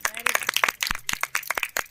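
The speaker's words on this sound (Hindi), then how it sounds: "ताली बजाएं सब लोग" Scattered audience clapping at a panch kundiya yagya gathering in Ashiyana, Lucknow, cheering a student's achievement; sharp, uneven claps in quick bursts, mixed with people talking nearby.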